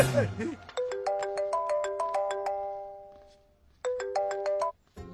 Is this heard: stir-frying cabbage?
no